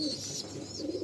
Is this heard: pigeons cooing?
yes